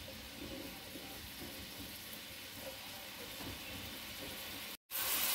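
Onion sizzling in hot cooking oil gives a steady, soft hiss and crackle throughout, broken by a brief dropout near the end before the sizzle returns louder.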